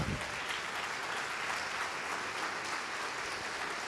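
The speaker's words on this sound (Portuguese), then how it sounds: "Vamos aplaudir ao nome do Senhor." A church congregation, standing in their places, applauds in praise, with continuous dense clapping filling the room from start to finish at an even level.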